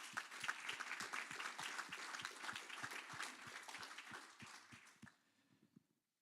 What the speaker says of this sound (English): I believe that deserves a round of applause.